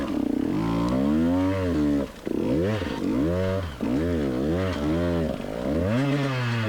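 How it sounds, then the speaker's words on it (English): A KTM 150 XC-W TPI two-stroke dirt bike engine revs hard on a steep hard-enduro climb, close and loud, its pitch rising and falling in repeated surges as the clutch slips. "You can hear my clutch plates."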